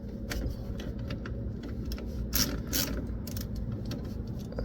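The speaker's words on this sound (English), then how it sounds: "back here at the back, we're going to loosen our bleeder valve" A wrench ratchets on the coolant bleeder valve at the back of a John Deere Gator, giving a run of close mechanical clicks and metallic ticks over a steady low engine-bay rumble.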